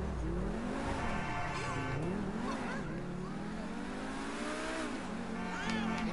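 A car engine in the video game GTA revs with rising and falling pitch sweeps, steady and fairly close, under ongoing talk.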